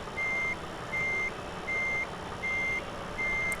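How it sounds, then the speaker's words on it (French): Truck reversing alarm in Euro Truck Simulator 2, pulling a Fliegl trailer: five evenly spaced, sustained beeps repeat over a low, steady engine rumble, clear and close. "Avec le petit bip de recul qui va bien."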